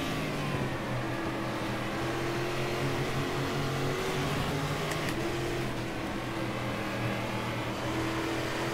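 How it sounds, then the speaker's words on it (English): V8 stock car engine in the racing game Game Stock Car 2013, a steady loud aggressive drone with rising and falling revs held throughout, no talk. "the sounds of this car. Just fantastic. I love the way it sounds. Very nice and aggressive."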